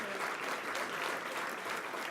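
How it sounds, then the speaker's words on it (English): A room of attendees at a community cabinet meeting applauds a coordinator, steady dense clapping that fills the short moment at moderate level with no talk over it. "Would you give Shawn DeBerry Johnson a round of applause"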